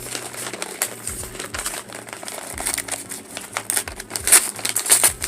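Book packaging is torn and opened by hand, giving close, irregular crinkling and rustling of paper and plastic with sharp crackles and short ripping bursts.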